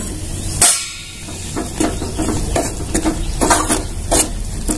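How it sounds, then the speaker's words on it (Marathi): A spoon stirs millet flour into boiling water in a pot, giving a steady wet scraping and bubbling with a few sharper clinks against the vessel, close and fairly loud. "चमच्याने हलवून घेऊया"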